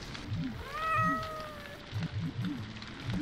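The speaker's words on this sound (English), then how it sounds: "Baby cats." Cats meow in a video game, a long drawn-out mew in the middle flanked by short repeated chirpy kitten cries, close and fairly loud with game ambience underneath.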